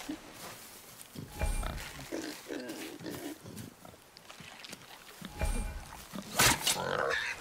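A wild boar in the God of War video game grunts and snorts in a few rough bursts, close and moderately loud, with voices talking around it.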